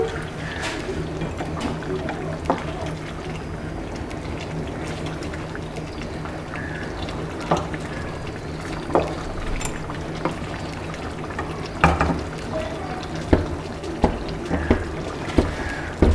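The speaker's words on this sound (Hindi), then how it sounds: "ये देखिए अच्छे से हम इसको क्रीम डाल के मिक्स कर लेंगे।" Cream stirred into a pan of chicken white karahi gives a steady wet, bubbling simmer with scattered soft scrapes and clicks of the spoon, fairly loud and close, with no talking.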